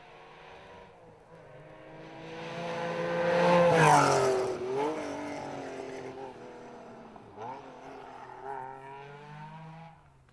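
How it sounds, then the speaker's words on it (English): A Porsche rally car on a tarmac rally stage in Galway, Ireland, its engine rising as it approaches, peaking loud as it passes, then fading away with gear changes and revs heard at a distance. "The Porsche."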